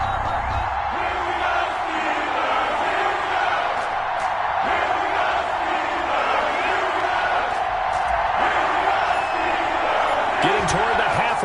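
Stadium crowd roaring in an EA Sports NFL game before a Cleveland Browns versus Pittsburgh Steelers matchup, a continuous distant din with swells and scattered shouts, under a commentator's steady talk.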